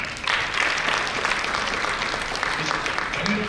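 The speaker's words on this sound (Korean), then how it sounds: "우리 강미정 연구위원님께 큰 박수로 맞이하겠습니다." Audience at a Hana Bank economic outlook lecture clapping to welcome a research fellow, a dense, even burst of applause that carries through the whole stretch at moderate loudness.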